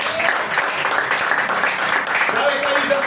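A church congregation gives a dense, loud, sustained round of applause to the Lord, with faint voices mixed in near the end.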